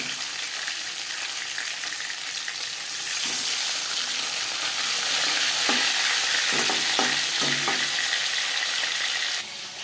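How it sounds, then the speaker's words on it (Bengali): Silver carp pieces sizzle steadily as they fry in a pan, with occasional clinks and scrapes of stirring, loud and close throughout. "অল্প অল্প করে মাছ ভাঙিয়ে ভাজাটা ভালো হয়"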